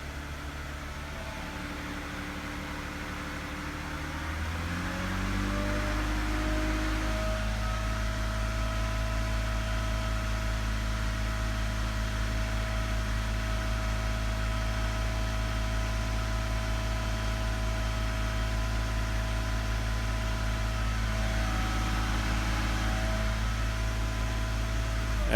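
A Mercedes W124 engine with KE-Jetronic fuel injection idling, then revving up to about 3000 rpm and holding there, a steady loud drone that climbs after a few seconds and stays high throughout.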